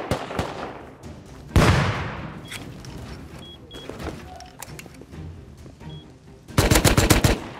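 Gunfire in the survival video game Rust: a single sharp shot, scattered fainter reports, then a rapid close burst of automatic fire at the end.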